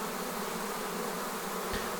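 A honeybee swarm moving into a queenless hive in September: dense, continuous close buzzing of many bees, steady and unbroken, with one brief soft bump near the end.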